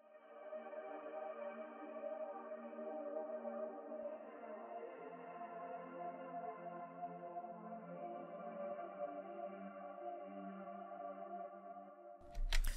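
Synth pad run through filtering, EQ, crystallizer, chorus, shaper box and phaser, a darker, band-limited sustained chord with swirling, shimmering movement that holds steadily throughout before a short click at the close.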